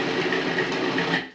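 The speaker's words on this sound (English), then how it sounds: "food processor here, and we're just going to pulse that a little bit to get it chopped down" A food processor chops ingredients for Italian beef sandwiches in a continuous loud whirring grind with rattling blades for just over a second, then cuts off abruptly.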